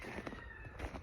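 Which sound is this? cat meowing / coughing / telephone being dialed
cat meowing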